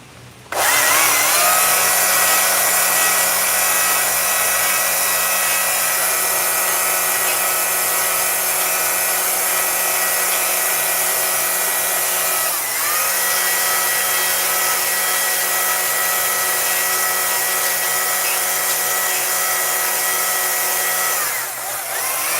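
Chainsaw cutting into wood for carving, a loud steady high-revving engine whine running continuously for about twenty seconds with a brief dip near the middle and no talk.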